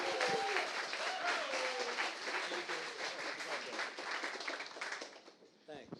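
Audience applause welcoming the guest Dan Gordon at a Startup Grind DC event, a sustained dense clapping from a sizable crowd that fades toward the end, with a voice faintly present beneath it.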